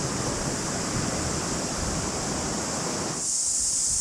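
Loud, steady rush of river water pouring through a canyon near Wellington, New Zealand, a dense broadband roar that fills the clip, then shifts to a brighter hiss for the last second.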